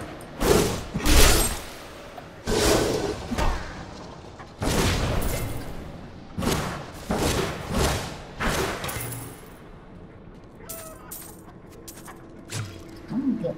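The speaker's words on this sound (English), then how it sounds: "You see these guys drop cannons. or fire bombs at you" In the game Diablo III, mortar-type enemies lob bombs, producing a series of heavy booming blasts and thuds with clinking debris, spaced a second or two apart, then fainter scattered impacts trailing off.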